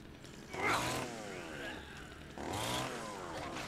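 A chainsaw weapon in the video game Dead Rising 4 revs in two loud bursts of buzzing engine roar, each swelling and then settling to a steady drone.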